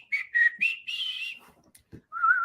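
A person whistles a few short tones in quick succession, then a longer held note, breaks off with small mouth noises, and finishes with one more sustained whistle, close and clear.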